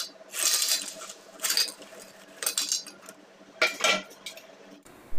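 Homemade crispy fried potato chips, made without boiling or drying, clatter onto a metal plate in four or five brisk, rustling bursts, close and fairly loud, with no talking.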